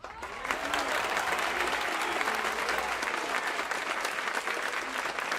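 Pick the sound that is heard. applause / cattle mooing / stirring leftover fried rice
applause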